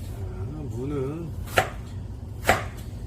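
A knife slices radish thinly on a cutting board, two crisp chops well apart. A brief voice is heard before them.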